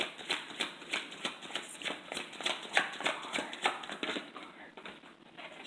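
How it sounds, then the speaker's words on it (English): Tarot cards are shuffled repeatedly in quick, papery riffles and flutters, close and fairly quiet, with no talking. "so I'll shuffle some more"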